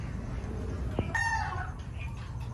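Gilmore gamefowl hens and other chickens in a farm breeding area, with a brief rooster-like crow and clucking over steady farmyard background noise, no talking.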